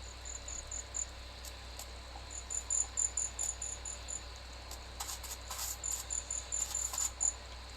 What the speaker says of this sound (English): There's a cricket out and about.